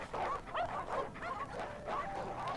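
Stray dogs gathered around a phone booth give repeated short barks and whimpering yips in a rapid, overlapping run, fairly close.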